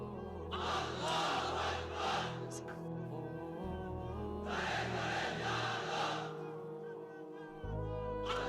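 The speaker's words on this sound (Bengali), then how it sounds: "এবার অবিবাহিতরা দাও লিল্লাহি তাকবীর" A large crowd of unmarried men at a religious sermon gathering roars a takbir chant together in loud, swelling bursts of massed voices, with pauses between the surges.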